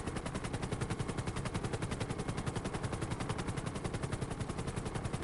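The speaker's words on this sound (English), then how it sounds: "it has a stupid 50 cal minigun" A .50 cal minigun firing in GTA 5, a continuous rapid stream of loud, evenly spaced shots held without a break.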